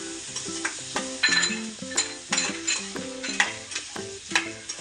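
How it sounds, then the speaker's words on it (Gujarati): Carrots and peas sauté in a pan for vegetable cutlets, crackling and sizzling steadily while a utensil scrapes and stirs them in repeated strokes, close up with no voices. "એને થોડે સોટે થવા દઈશું."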